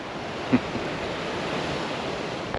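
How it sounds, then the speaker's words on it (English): A small waterfall and flowing river beside a hill path give a constant broadband rush, a steady wash of water noise at moderate level with no talking. "There's a nice little waterfall down there."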